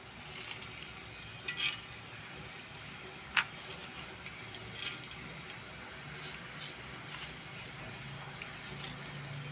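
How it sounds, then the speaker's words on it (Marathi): Coriander seeds and spices roasting in a little oil for a Karnataka-style tomato sambar, a faint steady sizzle with a few brief scraping stirs of the pan, no voices. "मसाला थोडंसं तेल घालून भाजून घेणे धने घातले"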